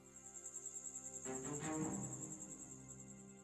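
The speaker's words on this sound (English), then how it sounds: "Cicadas buzz quietly in the garden." Cicadas buzz quietly in a garden at night in a video game, a faint high steady drone with gentle pulsing, joined midway by a soft low rustle.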